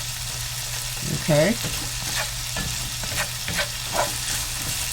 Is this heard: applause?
no